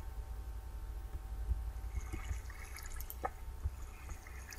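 Water flows and drips inside a video game cave: a low steady rush underneath, with a few scattered, faint drips landing at irregular moments.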